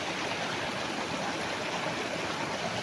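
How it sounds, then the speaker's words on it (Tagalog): A river flowing beside a farm lot with bamboo in Liliw, Laguna, a steady, close rushing of water with no voices. "So tabi po mismo ng magandang ilog."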